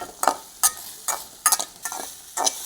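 Tomato chutney ingredients are stirred in a frying pan with a spoon, giving about seven sharp scraping strokes over a soft sizzle, close and clear.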